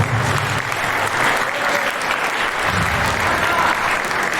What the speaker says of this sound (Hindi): इनके लिए भरपूर तालियां देते हैं।